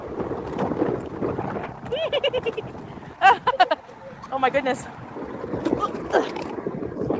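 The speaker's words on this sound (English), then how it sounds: "It's windy as shit." Gusty wind buffets the microphone in low rumbling bursts while people talk and exclaim over it.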